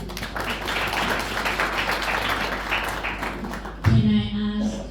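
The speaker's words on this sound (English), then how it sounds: "can we clap hands?" A church audience at a couples pastors' gathering claps together, a dense sustained patter of many hands lasting several seconds before cutting off abruptly into a brief tonal sound.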